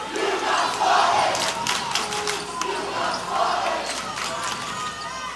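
Crowd at a high school boys' basketball game between Argonaut and Amador cheers and roars in a loud, sustained swell, with peaks of excited shouting and a commentator's voice running over the noise.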